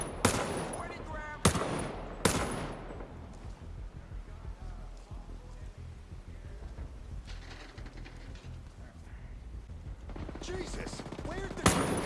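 Bursts of gunfire from the video game Ghost Recon Breakpoint: several sharp, loud shots crack out early on, then a quieter stretch of rumbling and distant mechanical noise, and a final close shot near the end.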